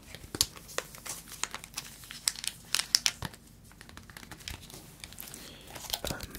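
Plastic wrapping crinkles and tears as a Pokémon Tyranitar premium collection box is opened, with close, continuous crackling and sharp snapping bursts, no voices.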